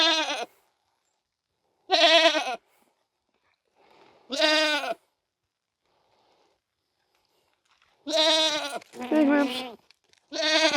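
Goats bleating outdoors, several loud, close, wavering cries spaced by silences, with a pair of overlapping bleats near the end.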